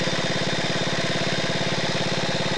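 A small moped engine runs at a steady idle, a rapid, even, buzzing putter with regular firing pulses, close and loud with no voices.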